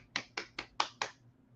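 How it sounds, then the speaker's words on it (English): One person giving a quiet solo round of applause, five crisp, close claps in an even rhythm over about a second, with nothing else around them. "We're gonna give a little round of applause here."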